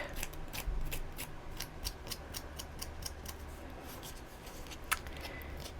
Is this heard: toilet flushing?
no